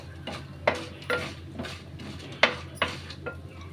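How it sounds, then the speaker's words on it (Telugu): Chana dal and urad dal are stirred in a pan, with a spoon clinking and scraping against the metal in scattered light taps over a faint background, with no sizzle evident. "ఒక 2 స్పూన్స్ పచ్చెనగపప్పు, ఒక స్పూన్ మినప్పప్పు. వీటిని ఒకసారి బాగా ఫ్రై చేయాలి."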